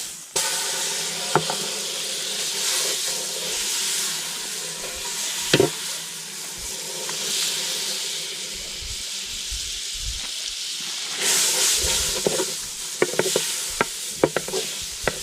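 Steady hiss of margarine sizzling in a casserole pan for kaldereta, with occasional clinks and scrapes of stirring throughout.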